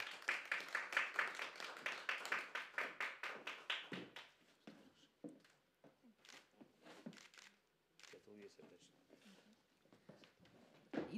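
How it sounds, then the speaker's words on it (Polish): Audience applause for a singer at the final of a Polish vocal festival, a steady burst of clapping for about four seconds that fades into scattered claps while a presenter speaks. "Wielkie brawa dla Magdaleny."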